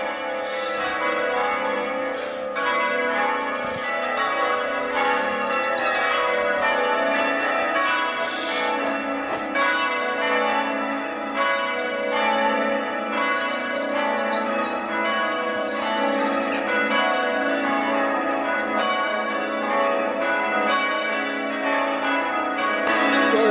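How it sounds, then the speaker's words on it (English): Church bells ring steadily in a peal, strokes repeating under a busy outdoor ambience, with bird-like chirps recurring overhead; no talk is heard. "the church bells are just starting to ring"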